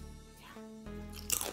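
A brief, crisp crunch of a fried plantain chip being bitten, close up and fairly quiet, following a moment of low background noise.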